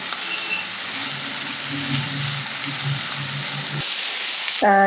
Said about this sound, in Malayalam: അപ്പൊ ഇനി ഇടേണ്ടത് നമ്മളുടെ സവാള അരിഞ്ഞതാണ് ഇനി ഇത് നന്നായിട്ട് വഴറ്റി കൊടുക്കാം